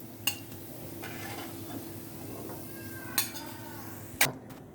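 Fried raw banana tikkis are lifted out of a frying pan: a few sharp utensil clinks against the pan over a low, steady background hiss, with no talking.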